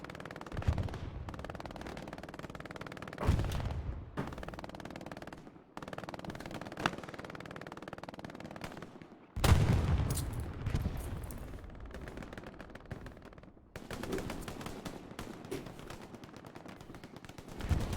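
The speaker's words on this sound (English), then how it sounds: "Now this is shooting at its finest. MG in the middle of the field." Bursts of machine gun fire and other gunshots crackle in a competitive World War II-style strategy game match with tanks and half-tracks, coming in sharp clusters separated by brief quieter gaps.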